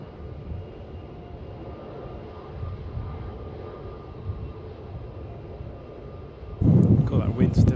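A jet airliner takes off from runway 16 at Melbourne Airport in strong wind, a steady low roar of engine noise that holds evenly, then a sudden loud buffeting burst of wind on the microphone near the end.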